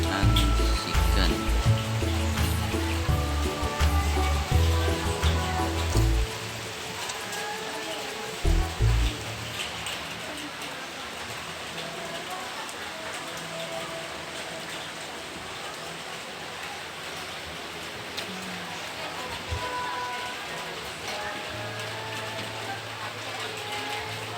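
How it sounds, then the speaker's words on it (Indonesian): Rain falls at a roadside eatery in Pemalang, a steady hiss of drops pattering on surfaces, with low rumbling noise and faint voices early on and briefly around the middle. "Suasana hujan"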